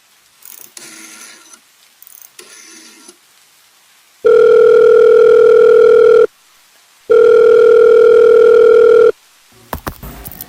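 A telephone in a radio play gives a few mechanical clicks and rattles, as of a rotary dial turning, then two long loud ringback tones with a pause between them, followed by a brief clatter.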